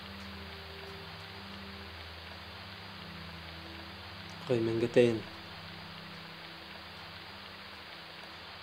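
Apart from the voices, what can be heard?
rain falling outside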